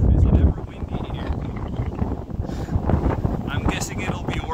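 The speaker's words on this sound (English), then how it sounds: "Man, it's windy." Strong gusts buffet the microphone on a mountain trail in Gaspésie National Park, a loud, continuous low rumble and roar that swells and eases, with a voice heard briefly.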